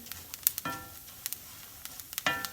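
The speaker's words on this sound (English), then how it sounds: "I guess you don't need to watch me fry this rice." Rice frying in a pan for Spanish fried rice, a low sizzle broken by scattered clinks and scrapes of a utensil stirring, close and fairly quiet.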